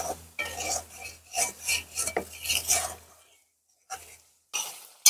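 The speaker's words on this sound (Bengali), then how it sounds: "এবার আমি এই মশলাগুলো একসঙ্গে ভালোভাবে কষিয়ে নেব" Salt, turmeric and dry chilli paste are stir-fried in a pan for a chicken and cauliflower curry, with rhythmic metallic scraping and clinking of a spoon over a light sizzle, then near silence with a couple of brief scrapes.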